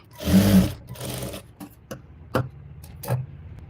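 Sewing machine double-stitching the shoulders of a simple blouse, a loud burst of rapid stitching, then shorter runs and single clicks as the fabric is turned and stitched back.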